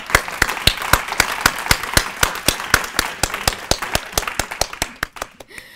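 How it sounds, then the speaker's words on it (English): Steady, evenly spaced handclaps ring out close and loud as an audience applauds at the end of a community panel event, slowing and thinning into a few scattered claps at the end with no talk. "give yourselves a big round of applause"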